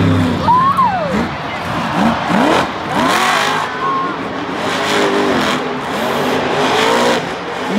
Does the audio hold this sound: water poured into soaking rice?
no